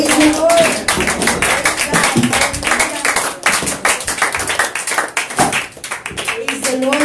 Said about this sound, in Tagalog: Lahat po ng masaya, mga kapatid, ay palakpak ang kamay sa ating Panginoon